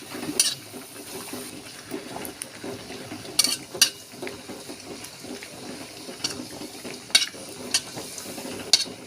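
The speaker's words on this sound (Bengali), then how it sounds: "এই অল্প একটু তেল দিয়ে ভাজছি" Food fries in a little oil with a low, steady sizzle, punctuated by occasional sharp clicks and scrapes of a utensil against the pan.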